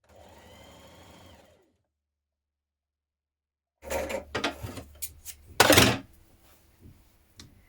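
A sewing machine stitches a dart on a 1970s summer dress with a shortened stitch, faint at first, then silent, then a few sharp mechanical bursts up close.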